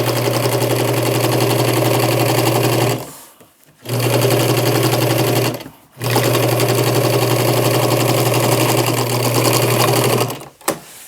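A sewing machine runs a straight stitch along a t-shirt in three long, steady motor runs with a short pause between each, loud and close with no talking over it.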